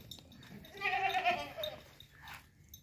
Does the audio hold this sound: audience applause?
no